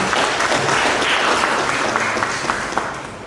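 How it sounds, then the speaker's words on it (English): A seated crowd at a university scholarship award ceremony gives a round of applause as a senior professor walks in. Steady, full clapping fills the whole stretch and tapers slightly near the end. "Please a round of applause."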